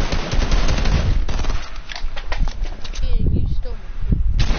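Rapid automatic gunfire rattles in a video game, close and loud bursts of shots with players talking over the action.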